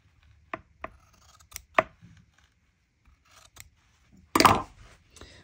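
Scissors snip through material for a needle keep in a few sharp, separate cuts, with a louder, longer final cut near the end, heard up close with no talking.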